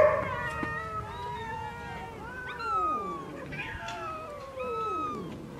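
Many cats meow and caterwaul together at a crowded cat shelter in besieged Aleppo, overlapping wavering cries rising and falling continuously, fairly close, with no talk.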